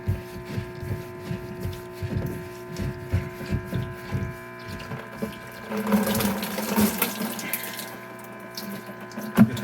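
Water streams out of a household water filter housing into a bucket beneath it, a steady close splashing and trickling that swells louder and busier toward the end, with faint hum underneath.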